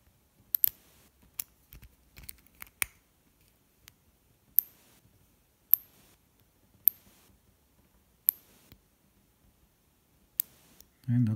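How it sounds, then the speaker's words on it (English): A pick working the pins of a WinkHaus lock, which holds spool pins, gives about a dozen small, sharp clicks at irregular spacing. They sound close and fairly faint against near silence, and a soft low thump comes at the very end. "See how many pins we hear clicking."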